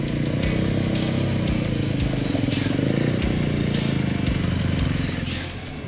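A loud, continuous off-road motorcycle engine drones steadily throughout a short adventure ride into Gateway, with rhythmic clatter and rumble from the trail, easing slightly at the end.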